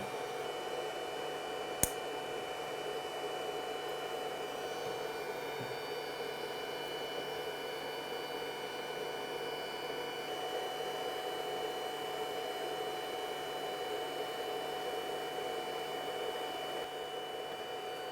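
A LiFePO4 battery charger running with its cooling fan, a steady loud whirring hum with a constant tonal whine, continuous and close, with one brief click near the start and no talk.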